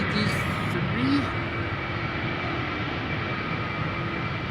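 KLM airliner departing Amsterdam Schiphol on a flight to Belgrade, a steady broadband engine roar holding at an even level throughout, with brief faint voices near the start.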